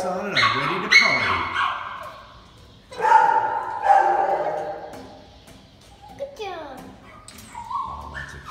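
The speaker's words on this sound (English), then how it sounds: "Oh, that's a cute dog, too." A small shelter dog barks and yips in several bursts, close and fairly loud, with a whimpering whine between them.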